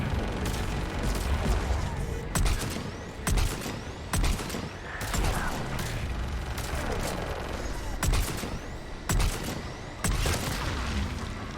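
Missile launches and explosions during an aerial battle over Thessia in Mass Effect 3, heard as a run of sharp, loud blasts roughly every one to two seconds over a constant rumbling din.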